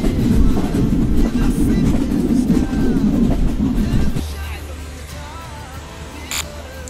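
Intercity train running on tracks between Bangladesh and India, a loud close rumble with rhythmic clickety-clack that drops to a lighter, steadier hum after about four seconds.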